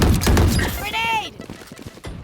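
A grenade goes off in a first-person shooter video game, a loud boom with a ringing, warbling tail over dense gunfire and game noise, with a voice talking over the mix.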